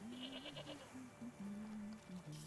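A mountain goat in the Wytchwood video game lets out a series of wavering, nasal bleats in quick succession, fairly quiet and steady, with no talking over them.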